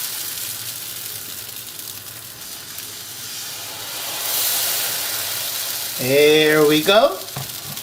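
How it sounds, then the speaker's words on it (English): Potato pancake batter hits a hot oiled skillet, giving a steady close sizzle and hiss of frying that swells midway, with a brief spoken remark near the end. "as soon as your skillet is hot enough, you're going to add a generous amount of the batter to it."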